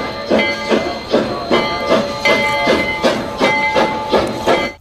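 A rhythmic clacking and hissing train sound repeats in regular pulses, loud and close, like a small toy locomotive chugging along.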